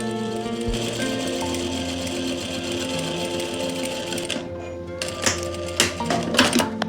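A sewing machine runs steadily close up, stitching a zip into the back of a kurti, then slows and stops into a few short stitching bursts and clicks near the end.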